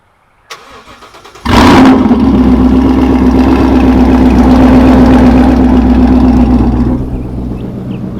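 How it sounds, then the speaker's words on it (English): A car with a completely straight-pipe exhaust fires up with a sharp crank, then settles into a loud, deep, rumbling idle close by, pulsing steadily for several seconds before dropping slightly in volume. "His car is completely straight pipe, so it's pretty loud."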